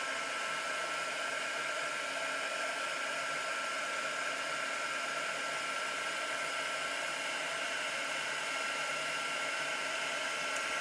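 Heat gun blowing steadily while it melts clear embossing powder, a constant close hissing whoosh with no breaks for the whole stretch.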